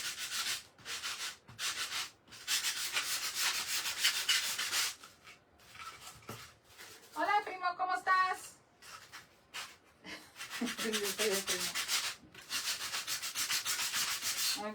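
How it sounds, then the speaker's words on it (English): A handmade Christmas craft piece being sanded at an angle, with long rough rubbing strokes in bursts separated by pauses, and voices talking in the gaps. "So I'm just gonna sand this in an angle and try to get it to look like that."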